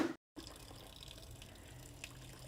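A steady, faint stream of water running from a camper's kitchen sink faucet, continuous and close with a soft hiss after a brief dropout at the start.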